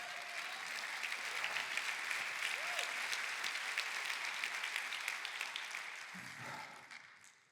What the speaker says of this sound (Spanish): Da otro aplauso a Cristo.